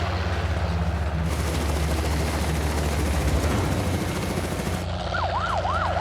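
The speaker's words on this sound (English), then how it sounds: "I can hear the helicopter right at the mouth of the Boma" A helicopter's rotor throbs nearby during a giraffe capture at a boma, a dense, steady chopping roar. A rising and falling siren wail starts faintly near the end over the noise.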